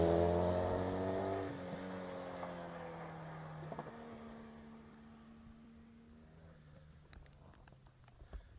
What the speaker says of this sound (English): Can still hear a car at good speed on hill.